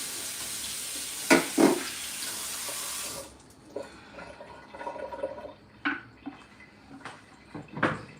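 Tap water gushing steadily into a kitchen sink while a cutting board is washed, then shutting off, leaving scattered clunks, knocks and drips of the board and dishes being handled.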